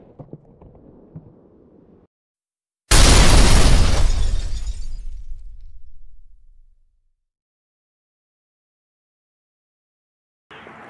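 A loud 8 gauge mini cannon blast on an outdoor range, one sharp shot fired at a pineapple target that decays over about four seconds, with talk before it and a brief noise at the end.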